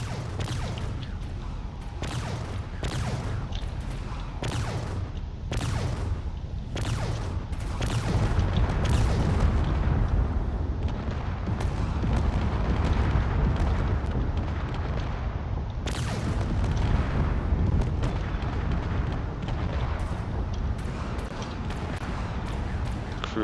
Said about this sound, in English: There is a lot of railgun being fired everywhere.